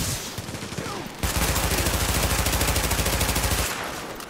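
Sustained rapid automatic gunfire in The Division, a loud machine-gun stream of evenly spaced shots lasting a couple of seconds, with scattered shots before and after.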